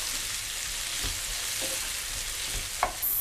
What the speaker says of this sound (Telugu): ఉల్లిపాయలు చక్కగా బ్రౌన్గా వేపుకోవాలి, చక్కగా వేగాలి